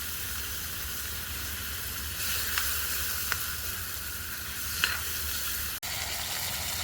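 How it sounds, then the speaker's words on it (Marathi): A loud, continuous hiss and sizzle rises from a hot kadai as water hits country chicken cooking outdoors in a field, with a few light clinks of stirring. "त्याच्यात आपण पाणी असं मिक्स करून आतमध्ये कढईमध्ये टाकू"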